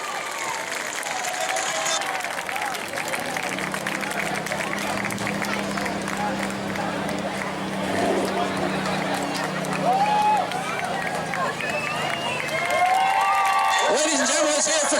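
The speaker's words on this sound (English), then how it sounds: "Give them a big round of applause, if you will." A speedway crowd at a spectator race claps and cheers, a broad rumble of applause with scattered shouts and whistles, over a low engine drone and a public-address voice.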